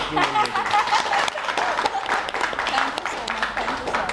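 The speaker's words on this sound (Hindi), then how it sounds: "एक जोरदार ताली तो बजाओ" An audience claps and applauds at a Congress party event welcoming a new vice president, a steady crowd clapping that runs the whole time with voices talking over it.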